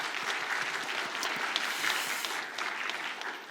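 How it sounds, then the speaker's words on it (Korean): A church congregation claps together during a special early-morning Thanksgiving prayer service, dense steady applause filling the room at moderate volume with no talking. "수고해 주신 우리 집사님께도 한번 박수 한번 주시겠습니다"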